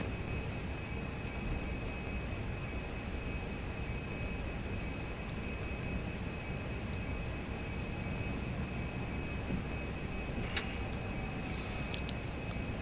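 Steady low jet-engine drone of an airliner taxiing at Denver in a flight simulator, a constant hum with a faint high whine and no speech.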